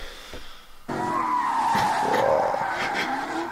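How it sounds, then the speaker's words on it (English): Ford Mustang skidding out of control with a loud, sustained tire squeal and engine roar that bursts in abruptly and holds close and steady. "I'm going to lose control of my Mustang."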